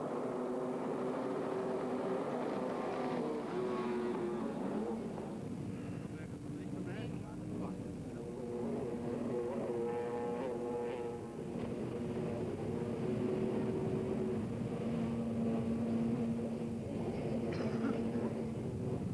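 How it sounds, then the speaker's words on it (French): Jet skis racing in a European championship heat in Jersey, engines droning and whining at varying pitch from a distance, heard under a continuous race commentator's voice. "Avec Cyril Lemoine, jet numéro 9, le jet tout gris de chez Sidou"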